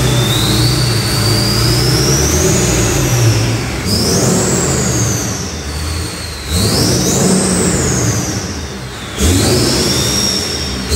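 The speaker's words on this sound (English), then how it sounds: "There's an engine in front of us and behind us." Several engines running together in the MONSTERMAX 2 truck, a loud, close, continuous drone with whining tones rising and falling as the revs are blipped in a few repeated surges, no talking.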